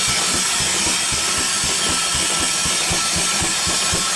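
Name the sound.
steam engine running slowly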